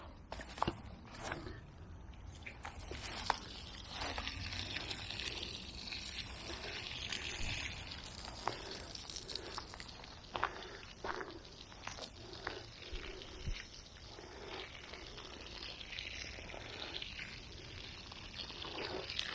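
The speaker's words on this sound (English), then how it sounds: "We'll just turn on the water." Water from a garden hose splashes onto plants such as cannas and peppers, a continuous close pouring and spattering with rustling leaves and occasional knocks and footsteps around it.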